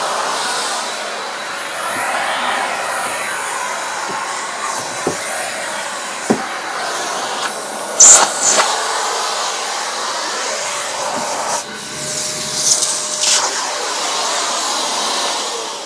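A Truvox VTVE-C compact tub vacuum cleaner runs continuously with its dusting brush fitted, giving a steady airy whine with occasional knocks and shifts in pitch as the brush is moved around.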